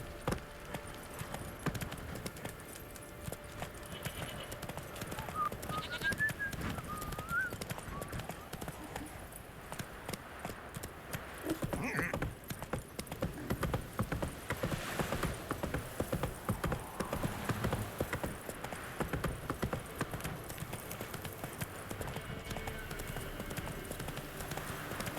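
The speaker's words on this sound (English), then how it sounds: "horses" Horses' hooves clip-clop in The Witcher 3: Wild Hunt on PS4, a steady run of close hoofbeats under continuous game music and ambience, with a brief whinny early on and some dialogue mixed in.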